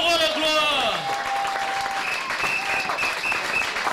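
A church congregation breaks into sustained applause mixed with voices, while a sliding tonal cry or whistle rises above the clapping crowd.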